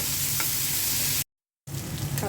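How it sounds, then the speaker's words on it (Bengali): Onions frying in oil left over from frying fish, a dense close sizzle that stops abruptly for a moment and then resumes just as strongly. "মাছ ভাজা তেলের মধ্যে পেঁয়াজ দিয়ে দিচ্ছি।"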